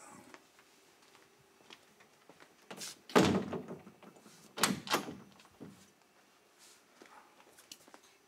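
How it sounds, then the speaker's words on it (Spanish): A door being shut indoors, with a couple of solid thuds close by against a quiet room, and a faint shuffle and movement around them; no talking. "Y cierra la puerta."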